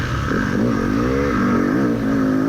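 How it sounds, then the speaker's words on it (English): A dirt bike engine drones close by on a motocross track during a hare scramble race, its pitch climbing and dipping as the throttle shifts, loud and continuous. "listen to my bike. I'm not revving it. I'm not hard on the gas."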